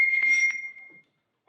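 A whistle blown in a single sustained shrill blast that wavers slightly before cutting off, followed by a moment of silence and the start of a voice.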